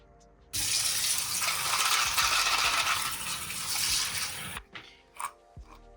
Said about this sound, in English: those are all the parts that I left in the evaporust for about 4 hours, and I'm gonna rinse them